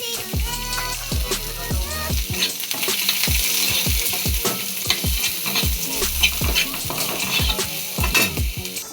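Onion and garlic fry in a pan with a steady sizzle, while a spatula stirs and scrapes against the metal in quick, repeated strokes. The sound is close and continuous, and no one speaks.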